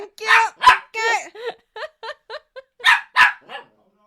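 A puppy named Lulu yaps in a string of sharp, high barks and yips, close and loud, rhythmic bursts with short pauses between them.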